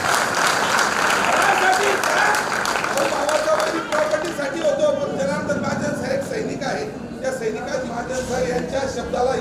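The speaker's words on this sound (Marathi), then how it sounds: "भावासाठी जोरदार टाळ्या वाजा" Loud, sustained applause from a village audience at a gathering honouring a former soldier fills the whole stretch, with a voice talking over it through the later part.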